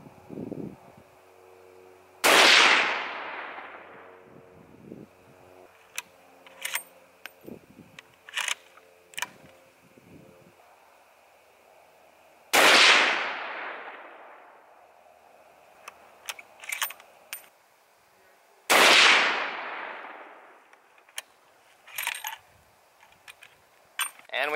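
Three loud, sharp Remington 783 rifle shots firing 180 grain Core-Lokt ammunition at a target range, spaced roughly ten seconds apart, each with a trailing echo, with faint handling clicks in between.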